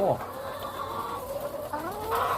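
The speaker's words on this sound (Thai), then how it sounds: "ไก่เขาต้องใส่กรงนี่" Caged laying hens cluck and call close by, a few drawn-out squawking notes rising and falling over a steady farmyard background.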